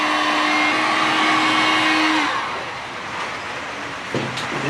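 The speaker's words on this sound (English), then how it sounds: "Put the heat gun on them." A heat gun blows steadily on old, hardened rubber hoses during a Subaru SG9 Forester engine install, a loud continuous whirring hiss with a faint whine that steps down partway through, then carries on more quietly.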